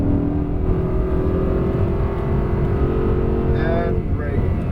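An Audi R8 V10 accelerating hard on a race track, a loud steady engine roar heard from inside the car, climbing in pitch near the end as revs rise.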